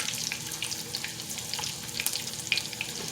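Double-stuffed chicken legs deep frying in oil in a cast iron skillet on the stove, giving a steady, fairly soft sizzle with crackling pops scattered throughout and a few sharper spatters.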